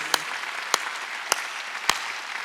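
Four sharp, evenly spaced claps at a church Wednesday worship service, isolated strikes over a quiet room hiss rather than a full round of applause.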